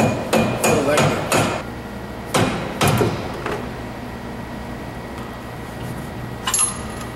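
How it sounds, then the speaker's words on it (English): A dead blow hammer taps on a crank brake wheel puller, a quick cluster of sharp knocks followed by a few more spaced strikes, close and loud, then a faint final tap with no talking. "you can just use a dead blow hammer to slightly start to work this thing forward"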